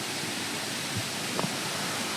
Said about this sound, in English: Ooh, look at that little waterfall.